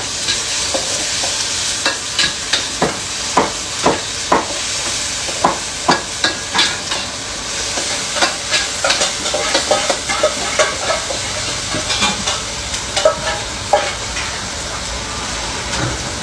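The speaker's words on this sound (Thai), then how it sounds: "ใส่เครื่องเข้าไปก่อนนะครับ ผัดให้หอมก่อน" Curry paste for canned fish tom yum fried rice is stir-fried in a hot pan, hissing and sizzling loudly and steadily while a spatula clacks and scrapes in quick, uneven bursts throughout.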